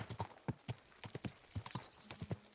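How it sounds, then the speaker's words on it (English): Horse hooves clip-clop at a slow, uneven walk in the video game Kingdom Come: Deliverance 2, soft and close, with no voices. "It's your first time riding a horse"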